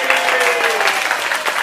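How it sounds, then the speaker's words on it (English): Audience applause at a synagogue gala, a dense, steady burst of clapping from a large crowd filling the room, loud and unbroken throughout. "We'll give her a round of applause."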